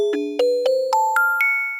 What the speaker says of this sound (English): Like you have Celestia right here, which sounds kind of like this.